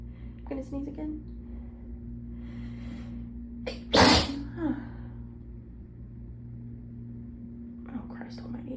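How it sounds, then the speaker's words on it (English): A person lets out one loud, abrupt sneeze, close to the mic, with a short breathy tail and a quieter gasp after it, and faint whispered talk before and after. "I think I'm gonna sneeze again."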